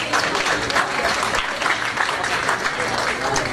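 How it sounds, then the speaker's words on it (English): Dense, sustained applause from a symposium audience for panelists on stage at an African diaspora investment event, steady and full throughout with no clear voices over it. "So let's give a round of applause to our panelists who are on the stage"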